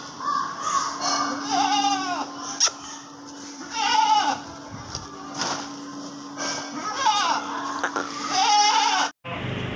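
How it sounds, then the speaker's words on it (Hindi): A Pateri goat bleats repeatedly at a goat market in Karachi, a series of loud, wavering cries close to the microphone, with people talking in the background. "माशाल्लाह से ये एक पटेरी बकरी फोर सेल है"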